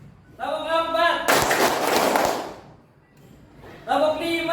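A classroom of pupils claps together in a concentration clap game, making a dense, blurred burst of group clapping of about a second. A teacher's voice speaks just before and after it.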